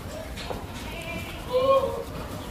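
Goats bleat at a goat farm holding mixed-breed goats, with a short, clear bleat rising in the middle and other faint animal calls around it, under and between people's voices.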